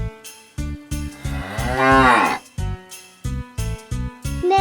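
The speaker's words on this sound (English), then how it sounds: "Cow." A cow gives a single long, loud moo that rises and falls, set against a bouncy, rhythmic nursery music beat with no voices.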